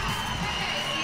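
Zimbabwe fans in the stands at a netball World Cup match against Northern Ireland, a dense, continuous crowd roar of cheering and shouting, heard at a distance at moderate level.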